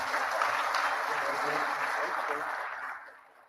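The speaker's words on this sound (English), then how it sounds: "let's please still clap for him" An audience at a manufacturing training completion ceremony claps for a graduate who is not present, a moderate, even wash of applause that fades away over the last second.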